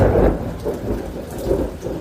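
Steady rain falls during a thunderstorm by a lake while thunder rumbles loud and close through the whole short stretch, with no voices.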